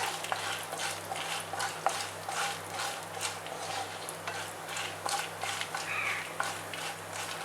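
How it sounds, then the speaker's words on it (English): Chana dal and urad dal sauté in hot oil with dry red chillies and asafoetida, giving a steady soft sizzle with repeated stirring scrapes throughout, fairly close and moderately quiet. "I'm going to saute this till the Chana Dal and Urad Dal turns brown"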